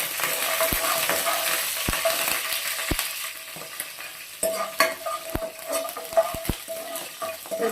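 Mustard seeds, cumin, urad dal and green chillies sizzle in hot oil in a kadai, a dense frying hiss broken by sharp spoon clinks against the pan as the tempering is stirred.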